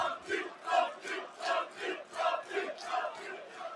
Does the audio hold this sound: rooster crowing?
no